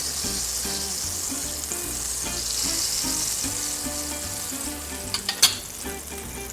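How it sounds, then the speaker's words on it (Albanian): Butter melts with olive oil in a hot pot, giving a steady, moderately loud frying sizzle throughout, with a few brief clinks near the end and no talking. "Dalëm që gjalpi të shkri."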